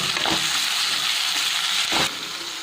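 Tomatoes go into browned onions frying in a pan for a spicy South Indian drumstick curry, giving a steady close sizzle with brief scraping stirs, no talking.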